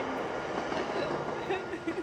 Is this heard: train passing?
yes